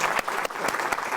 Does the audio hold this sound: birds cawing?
no